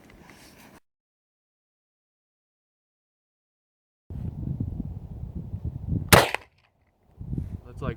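A single sharp shot rings out from an M48 Mauser rifle, a crisp close crack after a stretch of silence and low rustling, followed by a brief lull and more faint handling noise.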